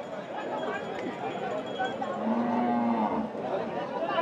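Cattle moo repeatedly at a busy livestock market where bulls and meat cows are sold, a drawn-out low bellow standing out near the middle over steady crowd chatter and background talk.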